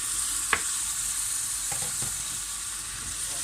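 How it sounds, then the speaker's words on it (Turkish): Rice being sautéed with tomato paste in a pan, a constant close sizzle broken by a few short scraping strokes of the spoon, with no voices. "Pirincimle güzelce kavuracağım."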